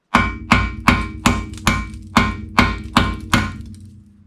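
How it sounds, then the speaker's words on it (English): Nine sharp hammer taps on a bit in a rusty fastener during a Mercedes W124 brake job, evenly spaced about half a second apart, each ringing briefly before the next strike, close and loud. "I just tap it with a hammer."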